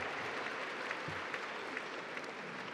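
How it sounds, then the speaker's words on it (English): Audience at a 40th anniversary benefit gala clapping for themselves, an even, sustained round of applause heard at moderate distance, fairly soft and steady without speech. "give yourselves a round of applause for being a part of 40 years of history"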